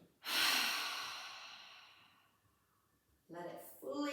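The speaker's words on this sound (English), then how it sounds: "Deep breath in." A deep breath drawn in and released through the mouth during a guided movement and meditation session, one long airy exhale fading slowly, followed by a few seconds of quiet and then a calm spoken voice.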